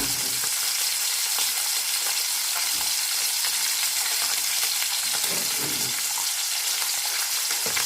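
Sea bream frying in a pan on its second side after being flipped, a loud, dense, continuous sizzle and crackle up close, with no talking.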